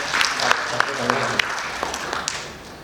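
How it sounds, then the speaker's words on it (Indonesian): A small audience at a Bugis cultural event about I La Galigo claps in scattered, sparse bursts that fade toward the end, with a voice faintly present underneath. "Silahkan berikan tepuk tangan dulu buat Mas Eko ya."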